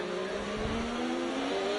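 A Ferrari race car engine in a racing video game drones at a steady high pitch, a sustained whine with a slight rising tone and no breaks.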